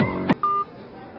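Phone call tone, a short clear electronic beep heard once just after a brief knock, close and fairly loud, with no speech.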